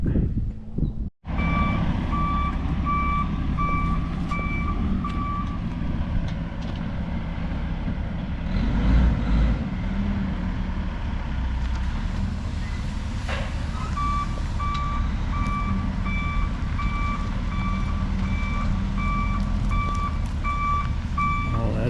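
A heavy, fully loaded truck of about 60 tons sits on a driveway, its deep engine rumbling loudly throughout while a steady reversing beep repeats for several seconds, pauses, then resumes.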